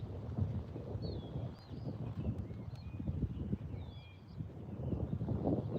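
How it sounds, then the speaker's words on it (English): A gust of wind buffets a phone microphone beside a river during a fishing outing, a rumbling low roar with distant bird calls above it. "here comes a wind gust"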